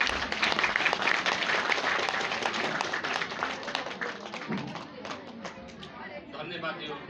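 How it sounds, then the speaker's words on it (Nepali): An audience at a church Christmas programme gives hearty applause, a dense wash of clapping that stays strong for several seconds and then thins out, with chatter mixed in. "उहाँलाई हामी जोरदार ताली"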